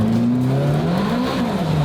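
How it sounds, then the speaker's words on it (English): A turbocharged car's engine pulls hard with rising and falling pitch, close and loud throughout, with no blow-off release clearly separated from the roar. "Sounds so good with the blow-off valve."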